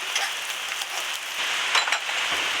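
Steady rain falls as a continuous soft hiss of drops on surfaces, moderately loud and unbroken, with no voices heard.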